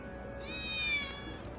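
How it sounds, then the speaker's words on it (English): A single drawn-out cat meow from one of Betty's cats in the video game Final Fantasy 7 Remake, moderately loud and rising slightly before fading, over a low steady game ambience with no talking. "did you hear that just now? I think one of Betty's cats might be nearby"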